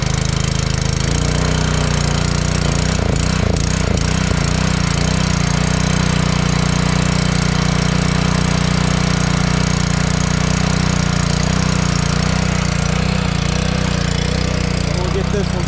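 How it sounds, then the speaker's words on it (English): A 2-inch water pump engine beside a pond on a snowy day, running loud and steady after priming. Its continuous drone comes from close by, a voice speaks over it briefly, and a few knocking thumps occur early on. "We'll get this one started and then go get the 3-inch pump, get it set up."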